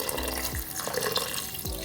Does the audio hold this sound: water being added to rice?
yes